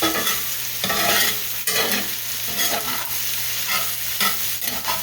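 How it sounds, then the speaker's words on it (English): Vegetables sauteing in hamburger drippings are stirred in a pan, giving a steady close sizzle with scraping stir strokes at an uneven rhythm, no voices. "I just stir these together into the drippings"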